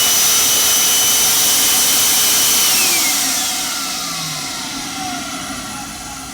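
A dusty TriStar vacuum cleaner motor in need of cleaning runs loud and close with a whining roar, then spins down after about three seconds, its pitch sliding lower as it slows.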